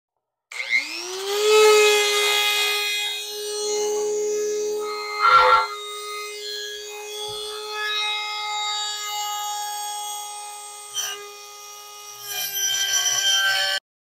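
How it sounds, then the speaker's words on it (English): A Dremel rotary tool whines at high pitch as it cuts off a metal spring on a Pontiac Firebird headlight, the steady tone bending with load through one continuous grinding pass, close and loud, with brief sharper scrapes near the end. "Got ourselves a Dremel. That spring right there, you can see it's pretty, you know. I'm just going to whiz that off right there."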